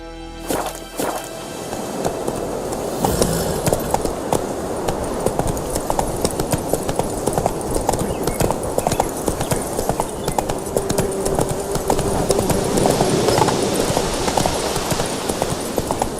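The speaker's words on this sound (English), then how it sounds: "Whoa there, Roach" Roach, a horse in the video game The Witcher 3, gallops with rapid rhythmic hoofbeats that start after a brief pause and continue steadily and loudly throughout.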